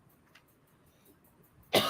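A single loud cough bursts out at the very end, close to the microphone, after a stretch of near silence.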